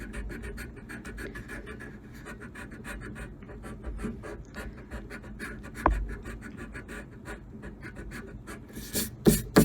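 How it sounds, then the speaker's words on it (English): An eraser rubs back and forth across paper on a drawing of a fire letter, producing a soft, rhythmic scratching that continues steadily, quiet and close. "And let's erase it."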